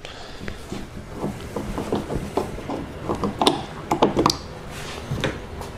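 Screwdriver working a screw out of a dirty Hyundai Sonata front door panel during window regulator removal, giving a run of small ratchety clicks and scrapes that pick up in the middle and end of the stretch, with no talk.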